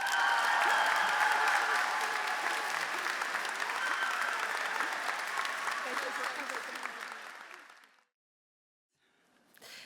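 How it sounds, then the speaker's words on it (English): A high school graduation audience at Hampden Charter School of Science applauds the principal with sustained, dense clapping that slowly tapers off and stops, followed by a brief silence before faint sounds return. "Please join me in round of applause"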